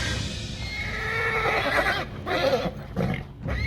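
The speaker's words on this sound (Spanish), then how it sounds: "los caballos coceaban y relinchaban con creciente frenesí" Frightened horses whinny and neigh in a frenzy, loud shrill cries rising and falling, with scattered thumps of stamping and kicking hooves beneath them.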